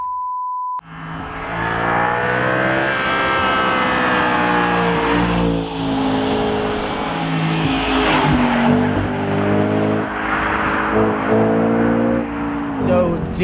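An Audi 4.2 V8 revs loud and high toward 8,000 RPM, climbing and falling repeatedly in strong harmonic sweeps after a brief tone at the start.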